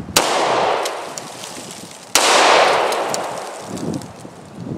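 Two sharp, loud gunshots aimed at a robot's battery pack, about two seconds apart, each a sudden crack with a long ringing decay outdoors.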